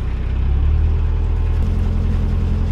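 A canal boat's engine rumbles loud and close, its low throbbing note shifting upward partway through as the revs rise, steady with no talk.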